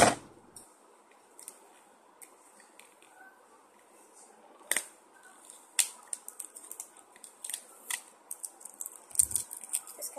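Scissors snip and crinkle through plastic toy packaging, with scattered sharp clicks and rustles that start sparse and grow into quick, irregular bursts near the end, close and fairly quiet.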